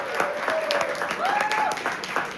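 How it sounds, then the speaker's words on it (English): Scattered clapping from a small group at a pep talk presentation, light and uneven, with a faint voice or tone sliding in and out underneath. "can we have a big round of applause for yourself, everyone?"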